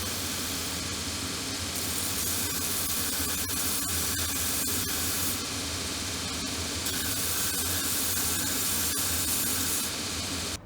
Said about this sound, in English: let's just head to the machine and sand it down a bit